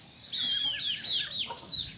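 Chickens cluck and squawk in a Pakistani village yard, a steady run of close, high, chattering calls with no talk over them.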